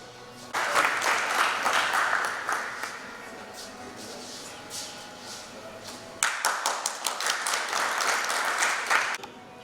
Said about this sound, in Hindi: एक बार जोरदार तालियां उनके सम्मान